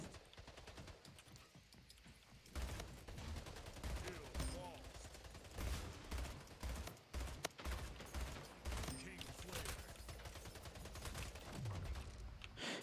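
Battle rifle fire in the arena shooter Splitgate, repeated sharp bursts of shots through a busy match with explosions and effects, loud and continuous, with occasional talk.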